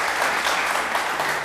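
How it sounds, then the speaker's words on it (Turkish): A studio audience on the Turkish word game show Kelime Oyunu claps loudly and steadily, a dense, even burst of applause lasting the whole moment with no one speaking. "Hadi kocaman alkışlar."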